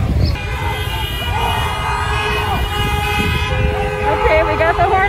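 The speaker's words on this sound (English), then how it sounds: "we got the horn talking right now. Lots of horns" Several car horns honk at once, sustained and overlapping over loud street traffic, with people talking in the background.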